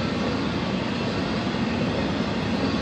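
Close by a Bakersfield, California campground, a passing train gives a steady, loud, unbroken roar of rolling wagons and rail noise, with no voices.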